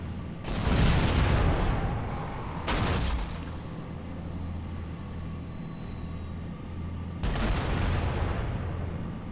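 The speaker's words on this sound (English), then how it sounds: "Enemy mortar tanks sighted at my position." Covenant mortar tanks fire in Halo, three heavy booming blasts spaced a few seconds apart, each followed by a low rumble, with a whining tone drifting between them.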